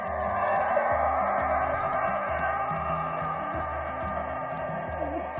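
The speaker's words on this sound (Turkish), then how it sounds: "horoz ötüyor bak horozu bir çek istersen" A rooster crows repeatedly at a short distance, its calls layered over a constant background hum.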